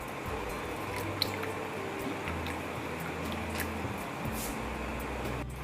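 Soft, steady squishing and dripping as chhena, the curdled milk for rasgulla, is washed and squeezed by hand in water. The sound is close, quiet and continuous, with a faint hum behind it.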